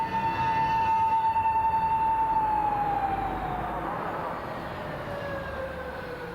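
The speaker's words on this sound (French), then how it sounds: "Dès les premiers échos d'une sirène de patrouille" A patrol vehicle siren in Japan, a single loud wail that holds steady and then slides downward and fades as it recedes, over a rumble of street background.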